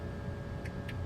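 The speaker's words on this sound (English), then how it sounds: "that clicking is the clutch of the trim wheel here working." Two soft mechanical clicks from the trim wheel clutch of a TBM900 in a flight simulator, a fraction of a second apart, over a quiet steady hum.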